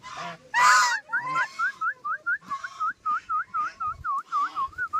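A peacock calls near birds feeding on millet, giving a rapid series of about fifteen short, rising, honking cries in a steady rhythm, fairly close and clear, after one louder opening burst.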